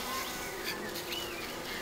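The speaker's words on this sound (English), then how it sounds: "Bees are not in great form today." Honeybees buzz around nuc hives with young queens, a soft, steady hum of many wings that stays faint throughout with no talking.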